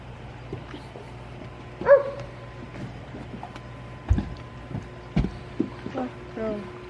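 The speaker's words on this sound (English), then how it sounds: "dog." A dog barks a few times at a distance, short separate woofs over a low humming background with some faint voices.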